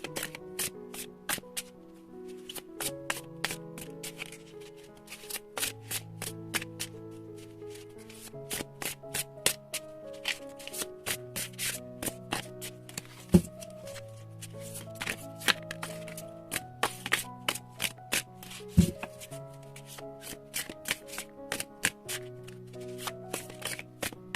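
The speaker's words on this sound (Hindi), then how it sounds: "टैरो में से हम 5 कार्ड लेंगे और ओरेकल में से 7 कार्ड।" Tarot cards are shuffled and drawn by hand in a steady run of soft riffles, slides and crisp snaps, laid over gentle background music with no talking.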